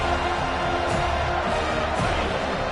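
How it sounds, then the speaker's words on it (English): A large stadium crowd roars steadily for the defense on a third down in a football game, a dense, loud wall of cheering and whoops that holds throughout. "Decibels rising as the crowd gets behind this defense on third down."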